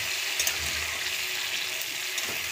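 Ridge gourd and pumpkin pieces with salt and turmeric sizzle steadily in a pan while being stirred, making a continuous close frying hiss with faint scraping.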